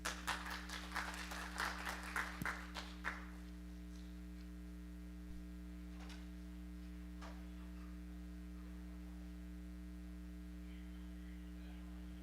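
A conference audience at a Hindu teens gathering claps for a third-place prize winner, a dense burst of applause lasting about three seconds before fading, leaving a steady electrical mains hum with a few faint knocks.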